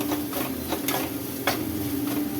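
Raw plantain sautéing in a pan for thogayal, a steady close sizzle broken by scraping stirs of a spatula against the pan, with no voices.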